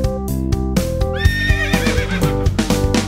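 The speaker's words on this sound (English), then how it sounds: "Horse, horse, horse." A horse whinnies with a rising and falling neigh over rhythmic clip-clopping hooves, close and loud, set against a bright musical backing.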